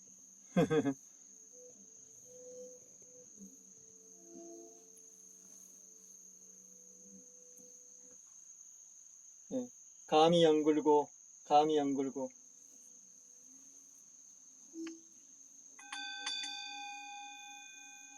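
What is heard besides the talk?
crickets chirping in autumn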